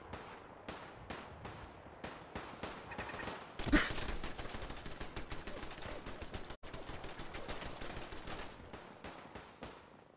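Rapid video game gunfire, sustained bursts of automatic shots in dense rhythmic volleys with a heavier blast midway, fairly faint and continuous.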